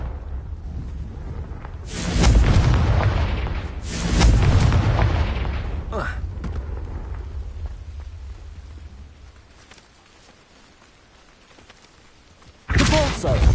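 Confringo fire spell explosions in the video game Hogwarts Legacy, several heavy booming blasts in sequence with deep rumbling tails, the last hitting abruptly and loud after a quieter stretch.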